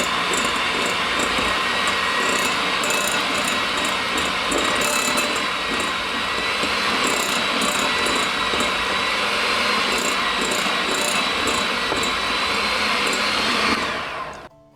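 An electric hand mixer whirs loud and continuous, beating cookie dough with maple syrup and vanilla, a steady high motor drone with slight wavering before it cuts off at the end.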